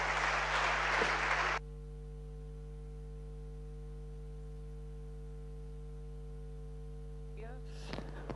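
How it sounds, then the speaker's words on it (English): An audience applauds loudly to welcome a speaker on stage at a conference. The clapping lasts about a second and a half, then stops abruptly, leaving only a steady electrical hum and faint shuffling. "So let's receive him with a big applause,"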